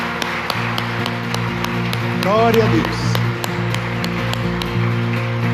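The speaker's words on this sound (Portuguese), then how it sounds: "Uma salva de palmas para Jesus." Congregation in a church claps in a steady rhythm, sharp hand claps repeating evenly throughout, while a voice speaks briefly over the applause and a sustained organ-like tone hums underneath.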